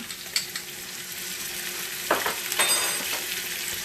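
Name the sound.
sauteing chopped onion and minced garlic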